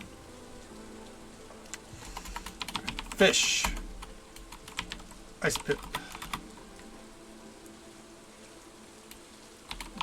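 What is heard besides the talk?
typing on a computer keyboard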